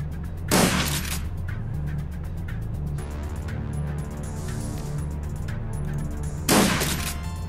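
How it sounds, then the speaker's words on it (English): A shotgun fires twice in the video game Shadowrun Dragonfall, two sharp bursts several seconds apart over a steady low game soundtrack, with no talking. "Get out my shotgun."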